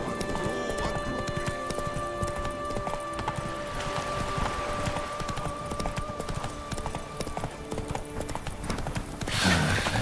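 Horse hooves trotting in The Witcher 3, a brisk steady clip-clop close by, with a whinny near the end and faint game ambience beneath.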